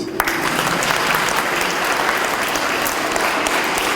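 A church congregation breaks into loud, sustained applause for the women during an Easter Monday service, a dense, even wash of many hands clapping that carries on for several seconds without pause.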